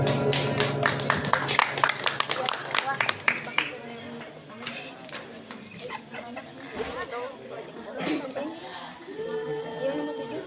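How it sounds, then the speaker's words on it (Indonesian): An audience claps for a youth Quran recitation and speech competition in Cianjur: a burst of scattered, crisp handclaps over the first few seconds that thins out into crowd chatter and talking. "Tepuk tangan."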